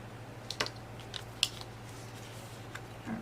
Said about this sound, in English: Need to trim this sticker a little bit.